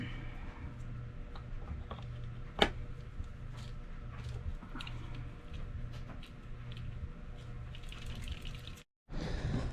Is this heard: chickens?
no